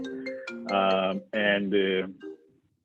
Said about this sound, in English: I hear somebody's phone ringing, actually.